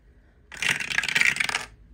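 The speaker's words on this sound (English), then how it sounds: "Roll your dice and follow the guide below." Dice roll and clatter across a hard surface during a savings game, a short burst of rattling clicks that lasts about a second, close and fairly loud.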